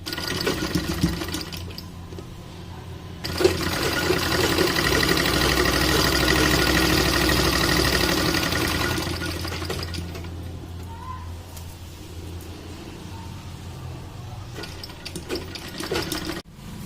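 A sewing machine stitches a seam on an umbrella dress in steady rapid bursts, a close mechanical whirring hum that runs for several seconds, pauses, and starts again with faint handling sounds.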